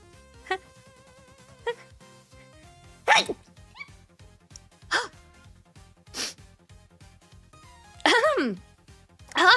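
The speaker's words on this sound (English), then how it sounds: "That was a perfectly normal sneeze, I'll have you know." A man sneezes during a hand-cam stream of building a Gundam FM Aerial model kit. Several sharp bursts come close to the mic over soft background music, with one stronger sneeze near the end.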